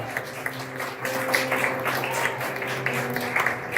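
A church congregation applauding at a Portuguese-language service, dense continuous clapping from many hands in a reverberant room, steady and fairly loud throughout.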